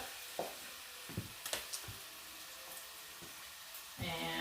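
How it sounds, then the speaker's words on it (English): Ground beef browning in a skillet for sloppy joes gives a soft, steady sizzle, broken by a few scattered clinks and scrapes of utensils against the pan, with a louder burst of frying near the end. "we're just going to add this beef in here and let that start browning up"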